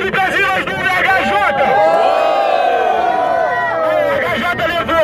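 Loud crowd at a Barueri rap battle semifinal (Batalha da Aldeia) cheering, whooping and shouting continuously as the votes are called, a dense roaring wall of voices throughout.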